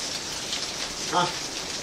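Steady rain falling outside a home in Saudi Arabia, a continuous even hiss throughout with a brief faint louder patch in the middle, no talking heard.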